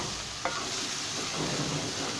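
Chicken with turmeric, black pepper, garam masala, green chillies and coriander sizzles steadily in a hot pan, a dense close frying hiss with a single clink of a utensil stirring.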